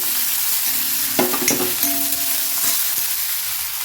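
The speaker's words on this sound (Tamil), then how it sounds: "இது நல்லா டீப்பாக ஃப்ரை பண்ணிக்கணுங்க ஆனியனை" Finely chopped shallots deep fry in a pan with a loud, steady sizzle, and a few brief stirring knocks and scrapes fall near the middle; no one speaks.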